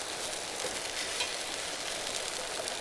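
Beans and rice fry in a pan on a campsite stove in a national forest, giving a steady, close hiss of sizzling that holds an even level throughout with no talk.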